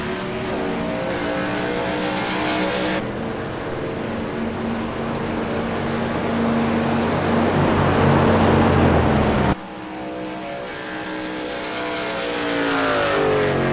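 A race car in a sim racing league game, engine droning loudly at steady revs with shifting pitch as it laps, a sharp change around the tenth second as another car passes close by.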